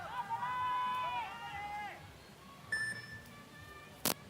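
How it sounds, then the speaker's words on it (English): A buzzer marks the minute at a women's bouldering final of a climbing competition in Jakarta, 2023. It comes as a short electronic tone over arena crowd noise and a commentator's voice, with a sharp burst near the end. "the minute buzzer goes"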